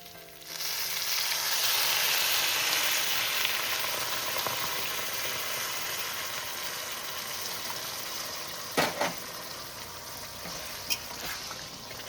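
Hot water poured into a pan of frying tomato and rice for muri ghonto makes a sudden swell of steady hissing sizzle that slowly fades, with a few sharp clinks near the end.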